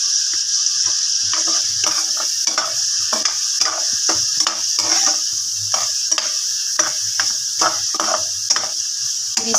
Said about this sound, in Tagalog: Pinisa ko lang siya guys sa sibuyas at bawang at kamatis